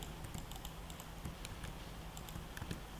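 Rapid, fairly close clicking of computer keyboard keys as a password is typed, an even patter of keystrokes through the whole stretch with faint background hiss.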